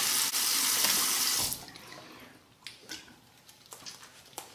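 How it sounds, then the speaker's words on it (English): Hot tap water runs loudly into a sink over a shaving brush for a second and a half, then shuts off, leaving a few soft drips and handling sounds. "Trafalgar T2 brush under the hot water"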